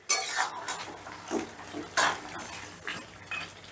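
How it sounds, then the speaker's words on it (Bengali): Close metal clinks and scrapes as a lid settles onto a pan of chicken cooking on the stove, several short clatters spread across a few seconds, no voices. "এবারে ঢাকা দিয়ে দিচ্ছি"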